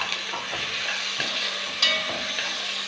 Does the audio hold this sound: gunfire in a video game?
no